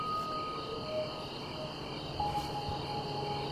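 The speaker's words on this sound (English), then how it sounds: "The crickets were so loud." Steady high-pitched insect chirping fills a pitch-black night, a continuous loud drone of crickets with occasional faint tonal calls drifting over the background, no voices present.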